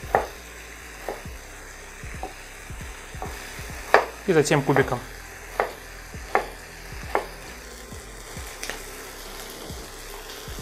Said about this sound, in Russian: А пока у нас поджаривается морковка, лук и колбаски